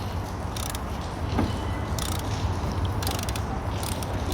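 A ratchet wrench clicks in short bursts while loosening an engine mount bolt on a 2009 Toyota Camry, the rapid pawl ticks close and clear over a steady low background hum.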